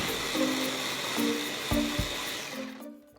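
An electric mixer whirs steadily as it blends ground hazelnut powder with melted butter, a loud continuous motor drone with slight pitch shifts, then spins down and stops near the end.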